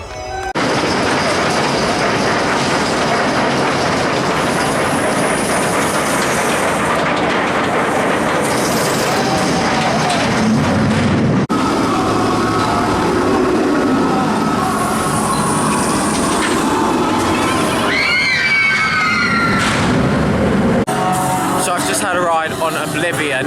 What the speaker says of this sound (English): On Oblivion, the world's first vertical drop coaster that isn't actually vertical